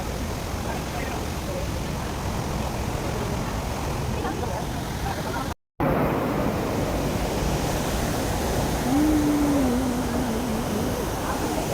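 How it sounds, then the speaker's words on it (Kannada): A waterfall roars during a monsoon ride, a thick, constant rush of water close by, broken only by a momentary dropout midway. "ಕೇಳಿಸ್ಕೊಂಡ್ರೆ ಅಲ್ವಾ ಜಲಪಾತದ ಒಂದು ಶಬ್ದ ಹೇಗಿರುತ್ತೆ ಅಂತ"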